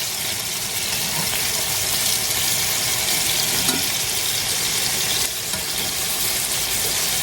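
Homemade breakfast sausage patties fry loudly in a pan, with a dense, steady sizzle and spit and a brief scrape partway through; no one talks.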